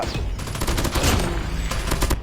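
Rapid automatic gunfire from a PDW-57 submachine gun in the mobile shooter Call of Duty Mobile, a dense, loud burst of closely spaced shots running the whole stretch without any speech.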